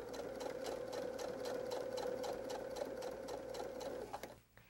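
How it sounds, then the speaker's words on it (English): A sewing machine with a zipper foot stitches a pinned fabric edge for a quilted train case, running at a steady rapid pulse close up for about four seconds before stopping abruptly. "you'll probably need to use the zipper foot on your sewing machine for this."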